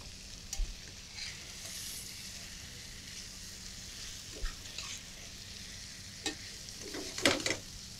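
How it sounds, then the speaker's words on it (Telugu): Chicken for methi chicken curry sautéing in a pan, a steady close sizzle with intermittent scrapes and clacks of a spatula stirring the pieces, the last strokes louder and quicker. "చికెన్ అవుటర్ పార్ట్ ఏదైతే కుక్ అయిపోతుందో ఉడికిపోతుందో అప్పటి వరకు లైట్గా సాటే చేసుకొని"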